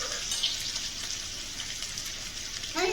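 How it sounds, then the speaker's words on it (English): Bacon strips fry gently in a pan over low heat, a steady soft sizzle and crackle close up with no talking. "I've got it on a low heat so it doesn't fry up really fast"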